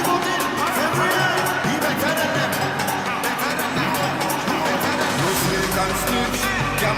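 A crowd at an outdoor political party public meeting in Babonneau applauds and cheers, a loud, dense wash of clapping and hubbub that holds steady throughout.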